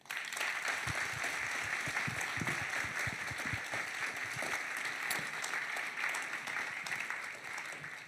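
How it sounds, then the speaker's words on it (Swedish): Sustained applause from an audience at an after-work research talk at Pustervik, steady dense clapping that fills the whole stretch, with no talking over it. "Jag tycker de är värda en applåd"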